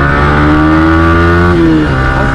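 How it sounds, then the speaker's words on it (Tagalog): A Yamaha R15 v3 motorcycle fitted with a new 14T-50T chain and sprocket revs its engine loudly and steadily up close, the pitch climbing and holding before dropping off near the end, with no talk over it. "Ang sarap ng atak ng motor ko ngayon kasi nagpalit tayo ng kadena."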